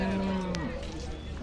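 Cattle at a Khillar livestock market in Sangola, Solapur, one cow giving a single drawn-out moo in the first half, close by, over steady crowd murmur and outdoor market bustle.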